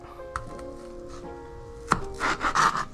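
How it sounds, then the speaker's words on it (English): A knife trims the root off an onion on a cutting board: a few sharp chopping taps early, a louder clean strike near the end, then a short scrape and rustle, with a low kitchen hum throughout. "We're gonna cut off the root."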